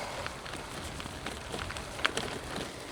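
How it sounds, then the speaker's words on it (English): Light rain falls steadily on a gravel trail, a soft continuous patter with a few brighter drop ticks, low in level and heard without talk. "I think the rain might have set in now."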